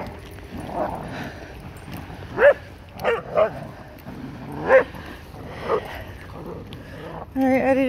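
Outdoors on a cold day, a dog whimpers and yips in short, uneven bursts with a few bark-like calls, close by. Quiet pauses fall between the sounds.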